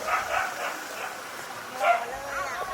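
Dogs bark and yip in a Thai village street near Khao Yai National Park as a wild elephant walks through at night, with a crowd gathered; sharp barks come in bursts under people talking.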